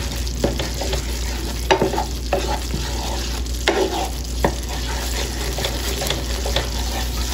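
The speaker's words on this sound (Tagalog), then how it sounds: "So, halo lang ng halo" Glutinous rice simmering in coconut milk is stirred continuously in a pot, giving a bubbling sizzle with irregular wet scraping and knocking sounds at close range and no talk.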